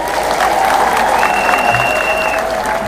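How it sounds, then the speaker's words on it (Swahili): Steady applause from a seated audience at a public gathering in Kenya, welcoming the speaker Wajakoya; dense, continuous clapping fills the whole stretch with a faint crowd murmur and no speech over it. "Tusidikize Wajakoya na makofi."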